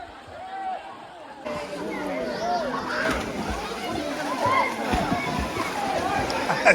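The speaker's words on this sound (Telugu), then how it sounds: "మా వాళ్ళు చూడు స్విమ్ చేస్తారు అన్నయ్యలందరూ కలిసి" People swimming in a swimming pool, with continuous splashing and sloshing water throughout, close by, mixed with background chatter and voices.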